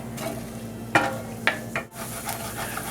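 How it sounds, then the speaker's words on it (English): Onions sizzle and hiss steadily in a pan over medium heat while a utensil scrapes and stirs, giving a few sharp clinks and scrapes over the frying. "Going to add the onions, and this will kind of deglaze the pan."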